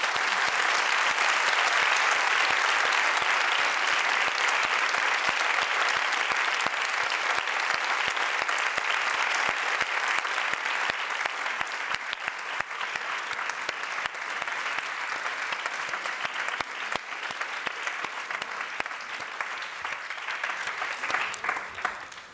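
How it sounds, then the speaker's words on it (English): Sustained applause from a lecture audience at a university talk, steady dense clapping that holds for the whole stretch and tapers slightly near the end. "So a big round of applause for having you here."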